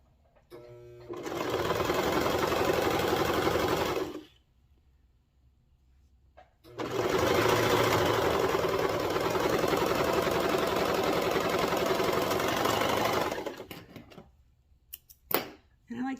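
A serger sews a quarter-inch seam on overall shorties in two long, loud, steady whirring runs, the first a few seconds and the second about seven, separated by a quiet pause, with small clicks and handling noises at the end.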